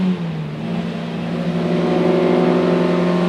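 A 1967 Nomad Mk 1 sports car engine revs up steadily and loudly from inside the car, its rising harmonic drone climbing smoothly without a break.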